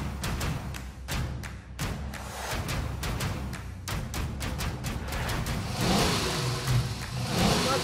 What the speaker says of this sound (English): I have my foot all the way on the gas.